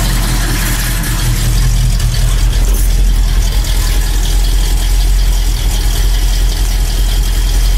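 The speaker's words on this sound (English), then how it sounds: "you're not going to be able to hear me over the motor anyhow." A motor running steadily and loudly close by, a constant low hum and drone with a broad mechanical hiss that persists unchanged throughout.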